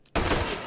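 A single sharp, loud shot from a semi-automatic gun with a large magazine in the VR shooting game H3VR, cutting in abruptly after a brief quiet and trailing off in a short decay.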